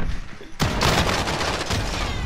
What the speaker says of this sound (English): That shotgun's one shot